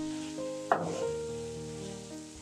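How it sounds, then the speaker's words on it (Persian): Sliced mushrooms sautéed over fairly high heat give off a soft, steady sizzle, with a sharp clatter as they hit the pan, then quiet frying under faint background music. "150 گرم قارچ رو که ورقه خرد کردیم هم میریزیم و با حرارت نسبتاً بالا تفتشون میدیم"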